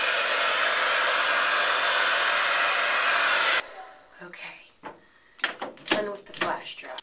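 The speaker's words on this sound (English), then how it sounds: "Blow drying upside down really does give you more volume." A hair dryer blows loud and steady at high heat and high speed while hair is dried upside down, then cuts off, leaving soft handling clatter and rustling.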